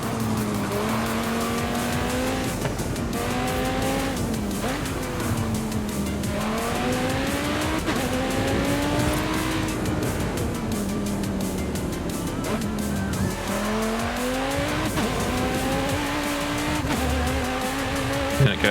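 Car tyres rolling over changing road surfaces in the racing game Forza Horizon 5, with a steady loud rumble of engine and road noise whose pitch rises and falls continuously and no speech.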